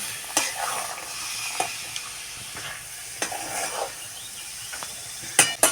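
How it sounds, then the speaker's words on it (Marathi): Fried green chilies and fresh peas being stirred with spices in a pan, a steady low sizzle broken by sharp scraping clinks of the spoon against the pan at irregular intervals, close and moderately loud. "तर आता हे चांगले हलवून घ्यायचे आहेत म्हणजे मिरची त्याच्यामध्ये चांगले मिक्स होईल मिरची आणि मसाले"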